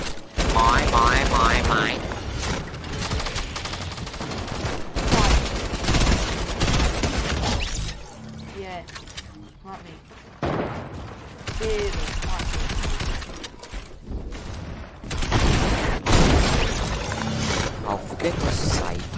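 Rapid gunfire bursts in Fortnite Battle Royale's gun game mode, loud, repeated volleys and minigun-like clatter that come and go with pauses, under frequent excited talking.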